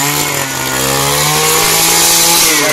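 A Newborn earth auger drilling a 12-inch hole in soil during a house extension: a loud, close two-stroke engine drone that holds steady and rises slightly in pitch and strain, with no talk.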